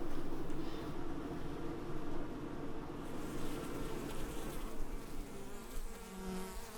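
Honeybees swarm at an apiary bee house, a dense, continuous buzzing that fills the air up close and stays loud and even throughout, with no voices.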